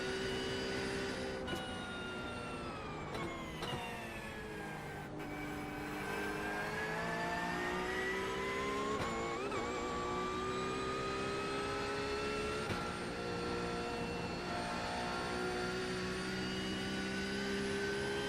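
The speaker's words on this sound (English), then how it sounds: "the Corvette does sound really good" Corvette race car in the iRacing sim at the Bathurst 12 Hour, its engine droning loudly and continuously as revs rise, dip and climb again through gear changes, with no talking.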